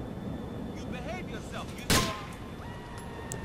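A single sharp pistol shot cracks out in Grand Theft Auto IV during an LCPDFR police mod session, loud and brief over steady game background noise, with people talking around it.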